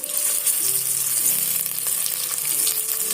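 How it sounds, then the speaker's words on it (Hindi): Sliced onions fry in hot oil in a pan, a loud, continuous close sizzle with steady crackle and occasional stirring. "प्याज को लाइट ब्राउन करेंगे,"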